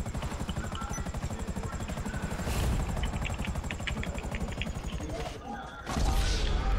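A helicopter in a video game, its rotor beating in a rapid, steady chop that stays loud and close throughout, with a brief dip and a few clattering impacts near the end.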